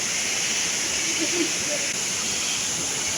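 Bar Changay waterfall in Sikkim roars as a broad, steady rushing hiss, constant and unbroken throughout, with a faint trace of voices beneath.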